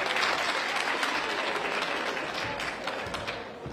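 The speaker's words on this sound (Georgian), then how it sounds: "თქვენი აპლოდისმენტები" Audience applause for young dancers from the Rustavelebi ensemble on stage at a performance, a steady dense wash of clapping that runs throughout and tapers slightly toward the end.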